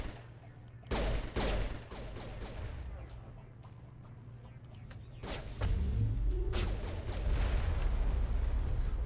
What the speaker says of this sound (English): Ooh, that's a rocket launcher.